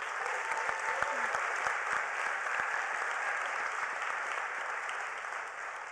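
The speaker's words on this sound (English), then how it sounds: "Let's give Kathleen a big hand of applause." An audience at an awards ceremony applauds at length, a dense, even wash of clapping with no pause, heard from within the hall.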